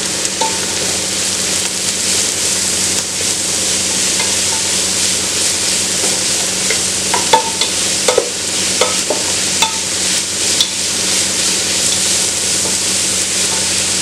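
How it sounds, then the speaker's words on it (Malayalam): Cabbage rice ingredients sauté in a pan for a Kerala-style dish, a loud steady sizzle close up with occasional light stirring scrapes and no voices. "വഴറ്റിയെടുക്കണം."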